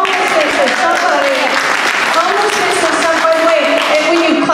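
Audience applause fills a political forum hall, a dense, steady wash of clapping from a large crowd that holds loud and unbroken throughout, with some voices mixed into the noise.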